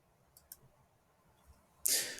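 Computer mouse clicks during a software walkthrough: a couple of quick, faint, sharp clicks near the start and another lone click later, followed by a louder burst of noise at the end.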